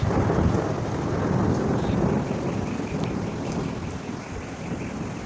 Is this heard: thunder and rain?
yes